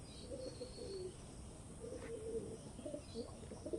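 An Andhra pigeon cooing softly in short low phrases, fairly faint against a quiet background with faint chirps.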